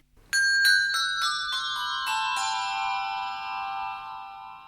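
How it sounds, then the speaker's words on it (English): Small handbells ring out a rapid descending sequence of about eight bright strikes, each tone overlapping the last, then the chord rings on and slowly decays in a quiet room. "the handbell ringing actually started with men who belonged to the tower bell team using these small bells."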